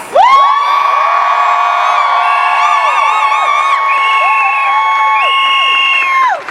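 A rally crowd raises sustained cheers, shouts and whoops, with high voices holding long, wavering tones together, loud and close for several seconds before cutting off.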